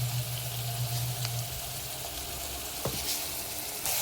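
Chopped onions and tomato frying in a pan with a little salt, cooking down for a pigeon meat curry; a steady, close sizzle runs throughout with no voices.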